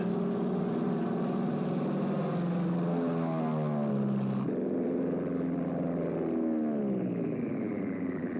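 A propeller airplane in an old movie drones loudly and continuously, its engine pitch sliding and shifting as it passes, with a sharp change midway like a cut between shots.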